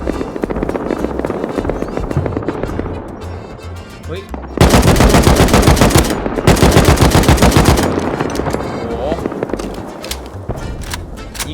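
Rapid automatic rifle fire from an AK in the survival game Rust, loud bursts of continuous shots in two long strings mid-clip, with quieter game ambience and scattered shots before and after.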